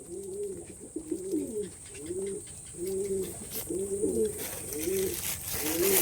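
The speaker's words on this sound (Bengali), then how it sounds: "দেখুন পায়রাগুলো খাচ্ছে দেখুন" Several pigeons coo in repeated rolling phrases, close and fairly loud, while they feed on a mixed grain diet.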